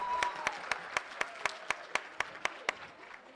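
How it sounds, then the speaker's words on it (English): An audience at a Giwayen Mata performance gives a round of applause, with a regular series of sharp, evenly spaced claps standing out over a soft crowd wash. "So give him a round of applause."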